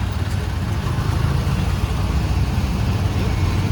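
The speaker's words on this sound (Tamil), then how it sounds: "டிராஃபிக் செம்ம டிராஃபிக்ங்க." Dense, steady low rumble of heavy road traffic near the Trade Centre, with cars, buses and trucks idling and moving close by in a continuous, loud wash.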